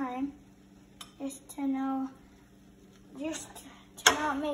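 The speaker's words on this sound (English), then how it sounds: "now we're gonna add the sausage in, spoonfuls of sausage," A spoon clinks and scrapes against a pan as spoonfuls of sausage go in one at a time, a few sharp metallic taps and scrapes under a person talking close by.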